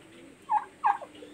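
A turkey at an ornamental turkey pen gobbles twice in quick succession, fairly close and clear over a quiet background.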